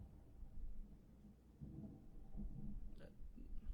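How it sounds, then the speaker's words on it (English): Thunder from a nearby lightning strike at night, heard as a low, heavy rumble that swells and rolls for several seconds, fairly close and sustained, with no talk over it. "was a big ass lightning strike right out my window"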